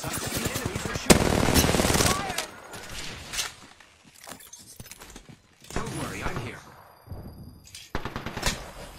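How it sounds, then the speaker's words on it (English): Enemy gunfire in the battle royale game Apex Legends comes in sharp automatic bursts and scattered single shots, loud at first then thinning into intermittent volleys between quieter stretches of game sound. "The enemies are shooting."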